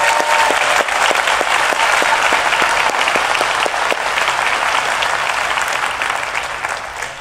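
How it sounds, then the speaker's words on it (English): A conference crowd at DEFCON 20 applauds a speaker and young attendees, loud dense clapping with some distinct sharp claps, sustained for several seconds and easing slightly near the end. "Let's give Sci-Fi a big round of applause and DEFCON kids."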